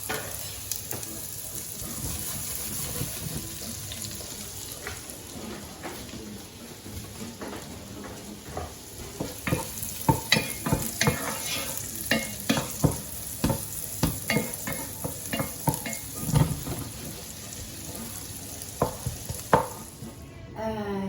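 Shallots frying in butter and sunflower oil in a pan while being stirred, with a steady sizzle and frequent scraping, clinking stirring strokes throughout, no talking.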